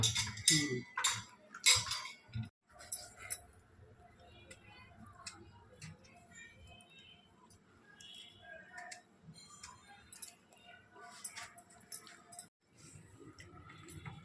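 Chicken is chopped into pieces with a knife, giving irregular close taps, clicks and light clinks against a cutting surface, with brief stretches of talk in between.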